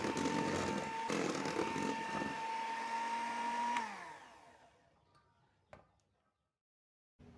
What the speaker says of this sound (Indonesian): Lalu mixer dengan kecepatan yang paling rendah sampai semuanya tercampur dengan rata.